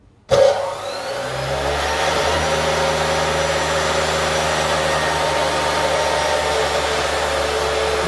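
An electric motor on a power engineering lab test bench starts abruptly and spins up toward 3,500 rpm, settling into a loud, steady whirring hum with a constant whine that holds unchanged throughout.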